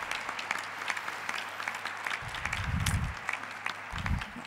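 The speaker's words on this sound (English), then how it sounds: "please give another round of applause to the HRC Foundation." Applause from a conference audience fills the room, a steady wash of many hands clapping with a few louder swells near the end and no talk over it.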